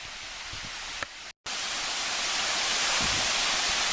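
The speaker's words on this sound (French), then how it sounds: "Et ça, c'est la deuxième cascade, probablement la même rivière." A waterfall at Palenque, the second cascade on a river, roars in a steady, loud, broadband rush that cuts out briefly partway through.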